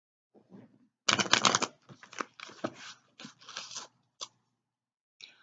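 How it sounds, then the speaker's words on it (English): Cards are shuffled up close in a run of quick riffling bursts, followed by a few shorter shuffles and taps. "I'm just going to do a quick shuffle and just pull one of each card"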